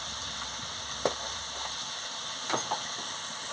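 Kudli chochchori frying in a pan, a steady low sizzle with a few soft scraping strokes of stirring, close and moderately loud with no voices.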